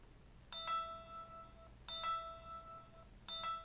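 A Nut Find 3 Bluetooth tracker's bright electronic chime rings three times at steady intervals, each tone clear and ringing out briefly in a quiet room.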